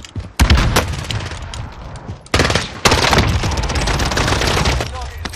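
Sniper rifle fire in the video game Warzone: loud, sharp gunshots cracking close by in a few separate bursts with rumbling echoes between them, no talk over the shots.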